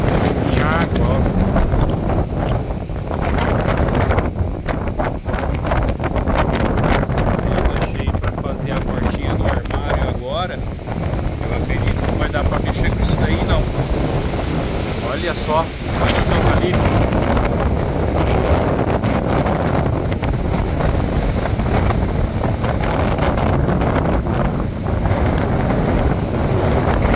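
Rain and strong wind buffet an outdoor spot, producing a loud, continuous roar of gusts and microphone wind rumble that persists the whole time, with voices faintly present underneath.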